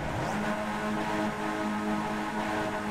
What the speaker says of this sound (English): The engines getting themselves revved up for this one